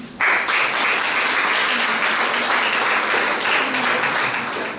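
Sustained applause from a crowd of parents and staff at a first-grade school ceremony in Ararat, steady and dense for several seconds before tapering slightly at the end.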